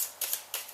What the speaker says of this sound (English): I take all the cards that are in my changing room and I give them an awkward shuffle